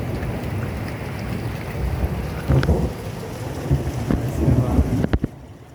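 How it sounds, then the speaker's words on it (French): A thunderstorm over Pertuis, France, in May: steady rain with deep rolling thunder that swells and rumbles, building toward louder cracks near the end before cutting off abruptly. "C'est vers là-bas qu'il y a des orages."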